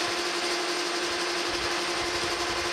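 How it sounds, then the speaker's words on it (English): Steel machining noise from a metal lathe facing the end of 1-1/4 inch steel bar stock: a steady, close hum with a sustained tonal line and broadband hiss, continuous throughout with no talking. "Over at my metal lathe, got that piece of inch and a quarter stock in there. I'm gonna start by just facing this backside."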